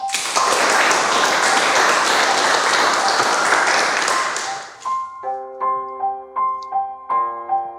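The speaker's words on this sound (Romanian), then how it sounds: "Vă rog, aplaudați-l pe tânărul debutant Mihai" An audience at a literary circle gathering applauds the young debutant Mihai Eminovici; dense clapping fills the first few seconds, then fades out as soft plucked musical notes begin.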